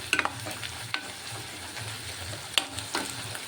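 Chana dal fries with chili powder and homemade masala, a quiet steady sizzle broken by several sharp spatula scrapes and clinks against the pan.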